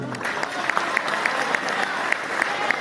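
An audience at a Hindi comedy and satire poetry event in Rishikesh claps loudly and continuously, a dense crowd applause with sharper individual claps standing out throughout.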